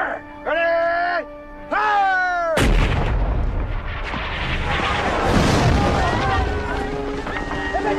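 Artillery fire booms out in a classic western film, a loud blast erupting after two shouted voices and rolling into sustained, chaotic battle noise.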